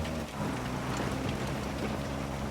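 Steady hiss of heavy rain pouring down in an off-road rally racing game, a dense, even wash of drops on surfaces with a low rumbling undertone, no voices.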